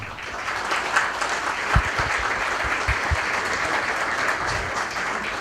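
Sustained applause from a lecture audience, a loud, even roar of many hands clapping throughout, with a few sharper nearby claps standing out and no talking over it.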